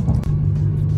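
A BMW E46 with a Steptronic automatic and retrofitted paddle shifters cruises normally, its steady low engine rumble filling a brief in-cabin moment.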